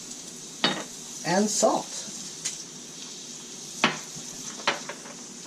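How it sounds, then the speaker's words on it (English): Mushrooms cooking in a frying pan make a soft, steady sizzle beneath a person talking, with a few sharp clinks of utensils against the pan. "Get that nice sizzle"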